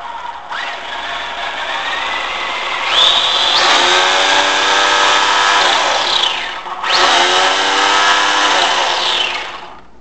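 An Arrma Senton Mega RC car motor, running an 80 amp ESC on a 2S battery, whines loudly and steadily, rising in pitch with two sustained revs and a brief dip between them.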